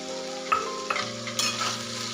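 Dudhi bhopla bhaji with coarse peanut powder is stirred in a hot pan, a steady close sizzle broken by several distinct spoon scrapes and clanks against the metal, with no talking.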